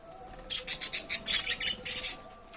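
Small caged birds chirp in a quick series of bright tweets, with soft wing flutters close by and a faint hum underneath.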